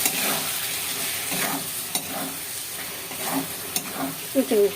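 Lota fish curry is stirred in a pan after salting, with scraping strokes at irregular intervals over a soft, continuous sizzle and bubbling.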